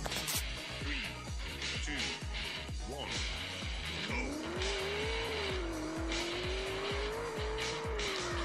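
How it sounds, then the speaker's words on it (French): A car drifting in Ultimate Car Driving Simulator, the engine droning under a long, wavering tire squeal that rises midway and holds, loud and continuous, with rapid rhythmic engine pulses throughout. "Faut qu'on fasse un certain nombre de mètres en drift."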